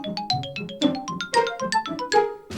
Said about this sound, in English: It's just a transcription of the GameCube startup theme.